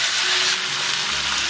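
Marinated chicken thighs, skin side down, frying in hot oil in a wok, giving a close, steady, bright sizzle that carries on without a break and with no talk.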